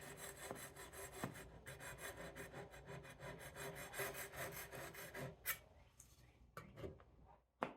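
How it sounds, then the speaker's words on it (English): A metal scraper scrapes a hard layer of paint off a light fixture in steady, rapid rasping strokes that sound close and fairly faint, ending in a few separate scrapes and knocks. "Okay, I have a metal scraper,"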